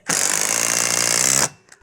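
Power drill driving a screw into a bracket on a bridge being built between two houses, one loud, close, continuous buzzing whir lasting about a second and a half before stopping abruptly.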